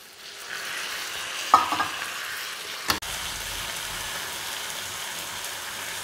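Tomatoes fry in a pan with a steady sizzle, with a few clanking stirring strokes near the start and a sharp clack near the middle, then the even hiss continues alone.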